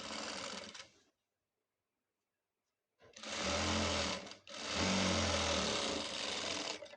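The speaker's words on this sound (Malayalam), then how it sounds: "അപ്പോൾ ഇതിനനുസരിച്ച് നമുക്ക് ഡാട്ട് മടക്കി തയ്ക്കാം." A sewing machine stitches a folded dart on a blouse, starting with a short run of stitching. After a pause of silence come two longer bursts of steady, close mechanical whirring.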